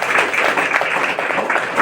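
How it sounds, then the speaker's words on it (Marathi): Audience applause for a girl at a Veer Bal Diwas event at a government industrial training institute in Chandrapur: dense, steady clapping from a crowd filling the hall, even and unbroken throughout with no speech. "तिचं जोरदार आपण टाळ्या वाजवून आपण अभिनंदन करतो"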